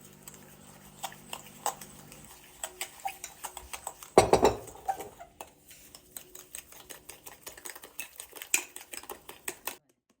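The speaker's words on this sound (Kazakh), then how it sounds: "шекерімізді, жұмыртқамызды екеуін бір ыдысқа салып, шанышқының көмегімен жақсылап араластырып" A fork whisking sugar and eggs in a bowl, quick light rhythmic clinks and taps that run for about ten seconds, broken midway by a short louder scrape, with faint background murmur.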